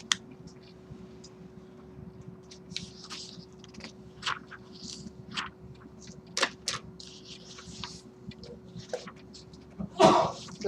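A single sharp sneeze bursts out near the end, after a stretch of quiet room tone with faint rustles and clicks.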